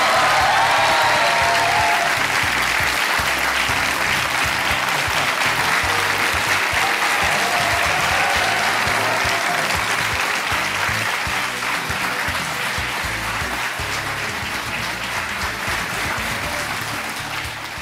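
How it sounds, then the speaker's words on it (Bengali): A television studio audience applauds the arrival of India's foreign minister S Jaishankar on the Aap Ki Adalat set: sustained, dense clapping from many people, loud and steady for nearly eighteen seconds, easing slightly toward the end. "আর এই হাততালি চলতে থাকুক"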